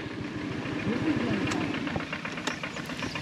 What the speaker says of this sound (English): I hear a tractor coming.